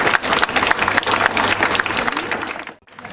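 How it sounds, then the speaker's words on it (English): Audience applause at the opening of the new Williamstown library, a dense burst of clapping from a crowd that runs loud and steady for nearly three seconds before cutting off abruptly. "I think you deserve a round of applause."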